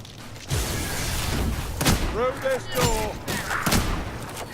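Gunfire in the video game Warhammer: Vermintide 2, sharp bursts and thumps in a busy fight mix, with a person talking over parts of it.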